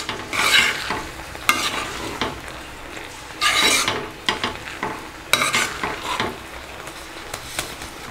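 Wheat upma gets stirred in a pan, a utensil scraping up from the bottom in uneven bursts with gritty rasps and occasional knocks against the metal under a faint sizzle.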